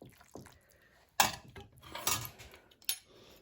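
Pasta al cavolfiore, cauliflower pasta, gets mixed in a pan with a utensil, giving a few sharp clinks and scrapes spread over a few seconds, with quiet gaps between them.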